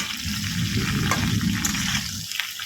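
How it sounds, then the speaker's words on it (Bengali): Snake gourd cooking in a pan, stirred with a steady broad sizzling and hissing that is loud and close throughout, with faint scraping under the wash of noise. "ভালো করে একটু নাড়াচাড়া করে নেব থেকে জল বেরোবে"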